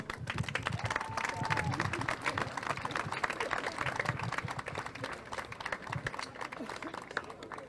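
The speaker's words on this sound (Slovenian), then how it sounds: "Aplavz." Dense crowd applause at an outdoor pro-life march in Maribor, loud and sustained clapping from many people with faint cheering mixed in, continuous across the whole stretch.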